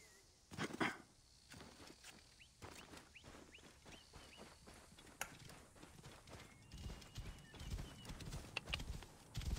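Horse hooves clip-clopping in Assassin's Creed Origins, a steady run of walking hoofbeats close by, with faint bird and fowl calls in the background and no talking.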